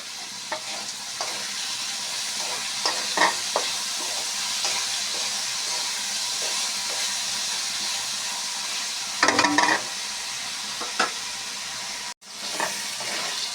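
A crab and red lentil curry is stirred in a pan, with a continuous bright sizzle and hiss and a few scraping strokes of a spoon, one louder burst of stirring, and a brief dropout near the end.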